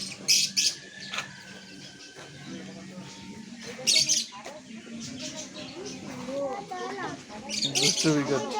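Parrots and lovebirds in a park aviary give bright, scattered chirps and squawks in short bursts, close by, mixed with background voices and ambient noise.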